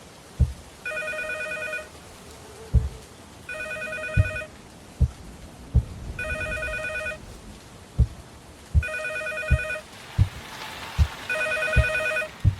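Telephone ringing from an unexpected spot near the toilet and tap in a home, loud bursts of a bright electronic ring repeating in steady cycles, with knocks and thumps between rings and no talk.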